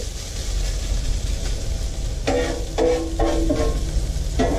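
A hash brown fries in butter on a hot griddle with a steady, close sizzle, while a few scraping spatula strokes cut in partway through.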